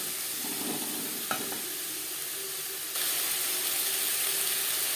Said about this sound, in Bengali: পনির ভেজে নেওয়া তেলে দিয়ে দিলাম শিম আর গাজর।